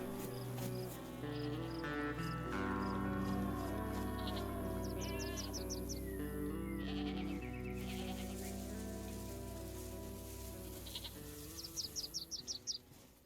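Goat bleats in the game DayZ surface briefly over a busy, layered game soundscape with music and pattering rain-like noise, ending in a rapid rhythmic clatter.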